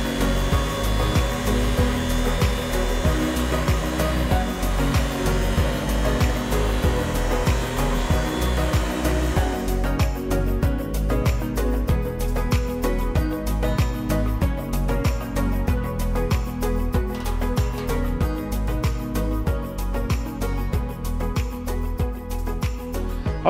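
Powered lawn edger cutting along the front yard, a loud continuous motor drone with a pulsing, rhythmic chatter as the blade bites the turf edge, close and steady with no talking.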